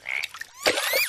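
A character in an animated film imitates a frog call with the voice, making a warbling, croaking sound followed by a rising, whistle-like cry, close and fairly loud.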